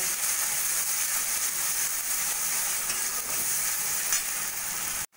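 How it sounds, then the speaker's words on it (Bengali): Ginger-garlic paste, cumin and chili powder frying hard in a pan, a steady close sizzle that holds level throughout and cuts off abruptly near the end. "জিরে গুঁড়ো, লঙ্কার গুঁড়ো, আদা রসুন বাটা দিয়ে ভালো করে মশলাটা কষিয়ে নেব।"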